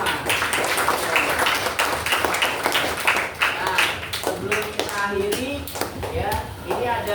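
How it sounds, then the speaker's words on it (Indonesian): A classroom of seventh-grade students at a Jakarta junior high school applauding, with steady rapid hand claps running throughout and children's voices talking and calling over the clapping. "sekali lagi beri aplaus untuk kita semua"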